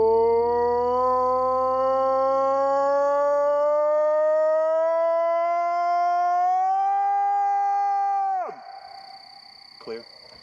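A person gives a long, sustained howl at night as a call for Bigfoot, imitating an animal cry. It rises slowly in pitch for about eight seconds, then drops sharply and is followed by near silence.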